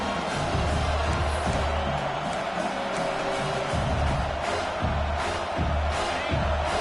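A stadium crowd at an American football game roars steadily, a dense wash of cheering and noise swelling in waves with no pause.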